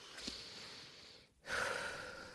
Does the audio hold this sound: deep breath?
yes